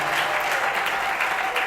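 A church congregation applauds loudly during a Sunday worship service, a dense, continuous wash of clapping from many hands, close and sustained.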